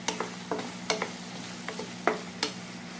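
Ginger and garlic paste sizzles in a pan over lightly fried onions for a Bengali chicken kala bhuna, with a spoon scraping and clicking in irregular quick strokes over a soft, steady fry, no speech.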